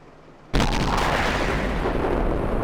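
An M12 self-propelled artillery gun fires in World of Tanks, one sudden loud boom that cuts in from near quiet and then rolls on as a long, dense rumble.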